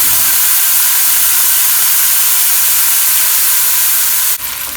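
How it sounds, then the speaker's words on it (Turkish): Minced meat frying in vegetable oil for a spinach börek filling, a loud, close, continuous hissing sizzle that holds steady with no talk before cutting down abruptly near the end. "Şimdi biraz da sıvı yağ ile birlikte kıymamızı kavuralım."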